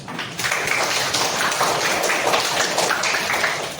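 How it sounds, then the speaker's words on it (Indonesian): A classroom of students in an Indonesian lesson bursts into dense, steady clapping. The applause is close and fairly loud and keeps an even level for several seconds before easing off. "Tepuk tangan dulu."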